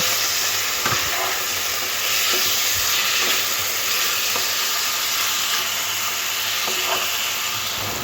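Marinated chicken pieces fry in hot oil in a wok, giving a steady, dense sizzle with faint stirring scrapes throughout.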